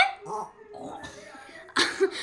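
A small child imitates a tiger's roar with a few breathy, growling vocal bursts, the loudest coming near the end, close to the listener after a brief adult voice.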